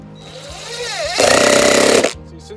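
A power drill drives self-tapping screws into metal gutter guard panels during installation, giving a loud, steady whirring burst of about a second after quieter handling noise.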